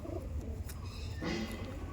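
Soft, low cooing of Madrasi pigeons close by, a few murmuring calls over faint background noise.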